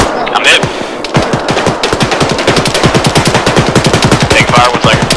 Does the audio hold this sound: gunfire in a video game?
yes